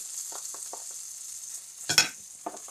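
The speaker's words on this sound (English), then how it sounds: "I'm just going to cook the eggs in the butter that's left here" Eggs frying in leftover butter in a pan, a soft steady sizzle with a few faint stirring scrapes and one brief louder clatter.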